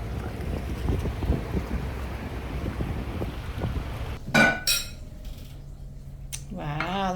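Boat gliding along the Kerala backwaters in India, with a steady low engine and water rush under gusty wind noise, then brief sharper bursts of wind buffeting near the end.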